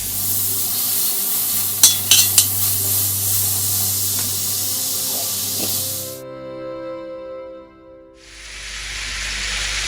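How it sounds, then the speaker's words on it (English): Butter sizzles and fries loudly in a hot wok, a dense steady crackle with a few sharp clicks of a utensil scooping it in, before the sizzle cuts off and then returns as a quieter hiss. "I'll go ahead and scoop in 2 tablespoons of butter."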